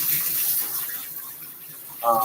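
Water from a sprayer or tap rinsing a dog during a wash, a steady close hiss of running water with a brief brighter gush near the end.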